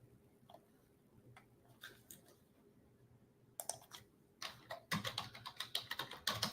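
Typing on a computer keyboard: sparse, soft key clicks at first, then quick bursts of clustered keystrokes growing louder and denser toward the end, close and with no talking.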